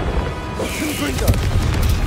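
A Confringo spell goes off in Hogwarts Legacy with a deep, rumbling boom and a burst of crackling, loud and close, under a voice.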